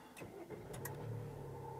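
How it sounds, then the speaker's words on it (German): A 2018 Jeep Compass 2.0 MultiJet diesel starts up. There are a few short cranking bursts and then a low engine hum, heard faint and close inside the cabin. "Ich starte jetzt den Motor."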